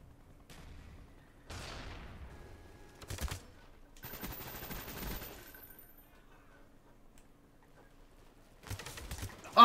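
Gunfire in Call of Duty Black Ops comes in short bursts separated by near silence, several rapid volleys that sound fairly quiet and distant.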